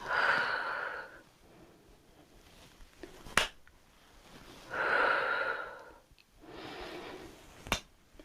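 Breathing during a beginner leg and thigh toning workout: three long, audible breaths, each a loud airy rush lasting about a second, separated by quiet gaps, with two sharp snap-like clicks in between.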